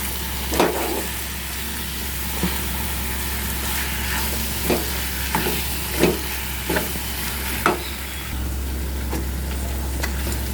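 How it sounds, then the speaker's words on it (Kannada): Eggplant being stirred into gojju frying in a pan: a constant loud sizzle with a spoon scraping and clinking against the pan in irregular strokes, close up. "ಈ ಸಮಯದಲ್ಲಿ ನಾವು ಮುಂಚೆ ತೆಗೆದಿಟ್ಟ ಬದನೆಕಾಯಿಯನ್ನು ಸೇರಿಸೋಣ. ಸೇರಿಸಿ ಮಿಕ್ಸ್ ಕೊಡೋಣ."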